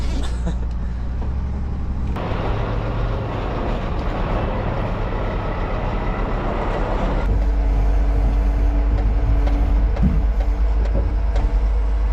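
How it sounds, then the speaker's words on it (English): A truck reverses in a yard, its diesel engine droning loud and steady throughout with a heavier low rumble building in the second half, no talk over it. "Just going to get reverse back here as quick as I can to save my driving time"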